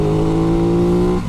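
A 2021 Aprilia RS660 sport motorcycle engine droning at steady high revs, loud and close with a strong tonal buzz, easing off right at the end.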